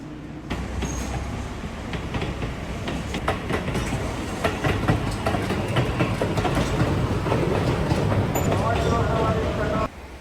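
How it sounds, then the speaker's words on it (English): An Odakyu 1000 series commuter train bound for Odawara in Hakone, Japan rumbles past with steady rail clatter and wheel noise, continuous for several seconds before cutting off abruptly. "Here we see an Odakyu 1000 series commuter train bound for Odawara."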